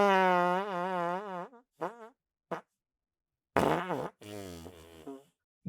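A loud fart sound effect stretches out in long, wobbling, buzzy blasts, followed by a few shorter sputtering bursts with brief silences between, close and prominent.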